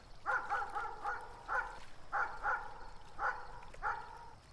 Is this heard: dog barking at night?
yes